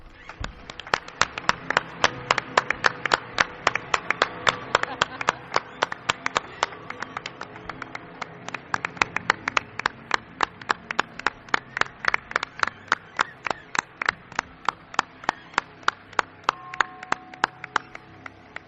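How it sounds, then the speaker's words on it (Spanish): A studio audience on a late-night radio mystery show claps together in a steady, rhythmic beat, with sharp, evenly spaced claps continuing for almost twenty seconds and no talk over them. "Quiero un aplauso para él."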